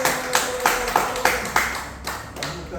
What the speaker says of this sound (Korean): 일단 박수 한번 드리죠.